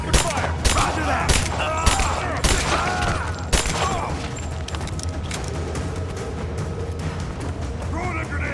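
Gunfire erupts in a Rise of the Tomb Raider firefight, loud bursts of automatic shots and booms cracking through the first few seconds, then thinning into scattered distant pops while soldiers shout over the noise.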